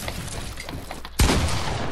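Single sharp gunshot from a Fortnite match, a loud close blast about two-thirds of the way in that leaves a sustained roar of game noise behind it, following a stretch of busy in-game ambience.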